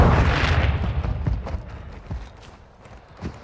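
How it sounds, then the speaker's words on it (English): A flash grenade goes off in Call of Duty: Modern Warfare II multiplayer, a loud close blast at the start that decays into scattered thuds and crackles. "Throwing flash grenade!"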